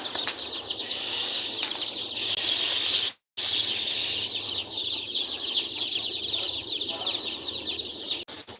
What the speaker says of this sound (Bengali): এগুলো হচ্ছে টাইগার মুরগির বাচ্চা অরিজিনাল টাইগার মুরগির বাচ্চা